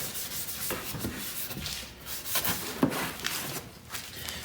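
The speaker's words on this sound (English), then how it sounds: "so I just hit it with the scuff pad all the way around" Scuff pad scrubbing the surface of a sixth-generation Camaro rear bumper, a close, steady abrasive rubbing in uneven back-and-forth strokes with no talking.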